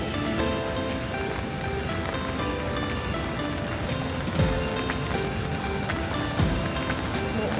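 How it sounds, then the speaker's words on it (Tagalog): Steady rain falls outdoors in Taipei, a dense, even patter on surfaces. A couple of brief louder knocks break through near the end, and faint voices sit low beneath it. "It's raining."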